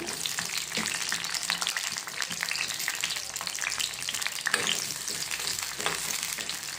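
Halved green chillies frying in oil in a pan for tamarind chutney, a busy crackling sizzle with spattering pops and occasional stirring scrapes, continuous and close, with no voices.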